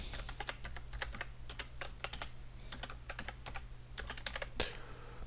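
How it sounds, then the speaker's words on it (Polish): Fingers tapping out a search command on a computer keyboard, quick bursts of crisp clicks with short pauses between words, close and clear over a faint steady background hum, no talking. "wpisujemy site, dwukropek i wpiszmy moje"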